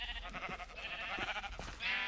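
A sheep in Minecraft bleats, a short wavering nasal call followed by another brief bleat, close and clear.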